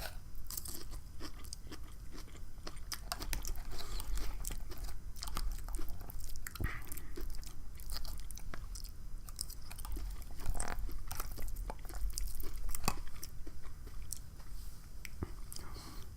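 Close, steady chewing and soft crunching while eating a poke bowl gone soggy and mushy toward the bottom, moist bites continuing throughout with no talk.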